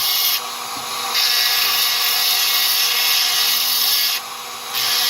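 A rotary tool bit grinds into Aguascalientes fire agate with a steady high-pitched whine and abrasive hiss, easing off briefly twice as the bit lifts from the stone.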